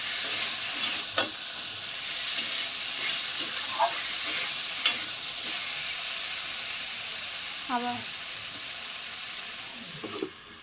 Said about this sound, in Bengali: নাড়তে থাকবো যতক্ষণ না মাংস